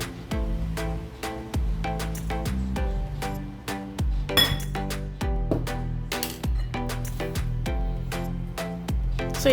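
Hot sauce wing coating is mixed in a bowl, producing a fast, rhythmic run of bright clinks as the utensil strikes the bowl again and again.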